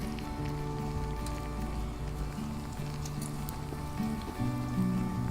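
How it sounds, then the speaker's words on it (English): Bacon sizzles on an outdoor barbecue grill, giving a steady, rain-like crackling hiss over a low background hum. "There's nothing like the sound of sizzling bacon."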